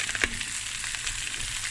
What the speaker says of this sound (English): I don't want the sizzle to be too hard.